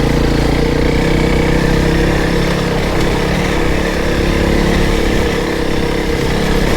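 A Honda CRF300 Rally motorcycle riding along a soft country lane, its single-cylinder engine giving a steady, loud, even drone with no breaks.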